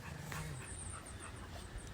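A dog standing in a river pants and gives short whimpering yips, close and rapid, over a constant broad rush of flowing water.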